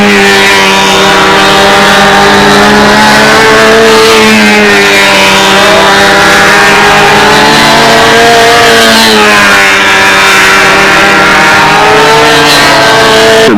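A control-line stunt model airplane engine screams loudly and continuously at launch on a hot tarmac flying field, its high, buzzing whine rising and falling slightly in pitch as the plane swings around.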